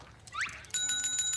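A bright bell on a children's TV show rings in a quick run of repeated metallic strikes, close and clear, just after a short sliding whoosh, with no voices.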